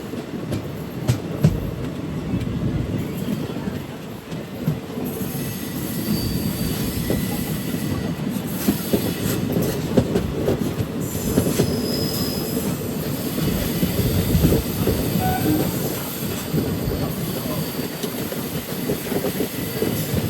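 The Malabar Express rolls around a long curve just before Kollam station, with a steady heavy rumble of wheels on rail, rhythmic clicking over joints and intermittent high squeals from the wheels, heard from on board.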